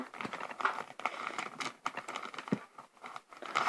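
A Champions League 2014/15 mega starter card pack is cut open with scissors: close, quiet crinkling of plastic wrapping mixed with small snipping and rustling clicks, with no talking.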